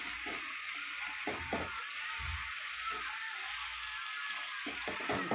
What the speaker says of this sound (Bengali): তারপরে মাংসটা তুলে দিলাম দিয়ে এইভাবে নাড়াচাড়া করে নিতে হবে